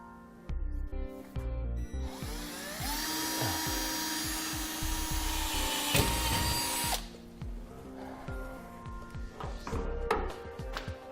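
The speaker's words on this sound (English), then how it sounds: "So we'll drill a hole in the frame." A power drill bores a pilot hole into a vehicle frame for a trailer wiring ground, whining loudly in sustained bursts with pitch shifts as the bit bites into the metal, then stopping and giving way to quieter handling noises.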